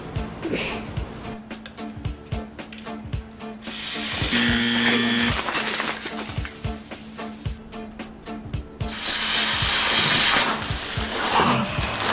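Mentos dropped into four Coke bottles fizz and spray in two loud, sustained gushing bursts, with scattered clicks and knocks between them.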